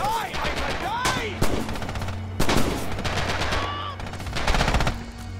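Machine gun fire in the World War II game Red Orchestra 2: Heroes of Stalingrad, a battle defending a general store. Loud sustained bursts with sharp shot transients mix with whistling sounds and game voices.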